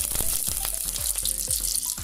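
Butter sizzles and crackles in a casserole pot over a strong flame, a bright steady hiss with repeated low knocks from stirring, close and fairly loud.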